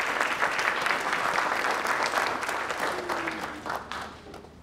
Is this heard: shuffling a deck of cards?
no